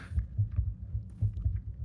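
Heartbeat sound effect used as a raid trigger in EverQuest, the Leviathan's Heart encounter: a steady, deep double-thump pulse repeating about every half second, alone and fairly quiet.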